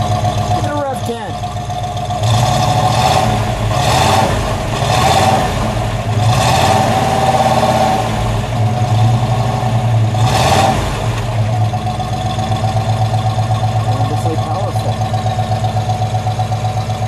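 A 1954 Mercury Monterey convertible with Mercomatic transmission idles steadily close by, its engine swelling in several revs over a low rumble, with people talking over it throughout.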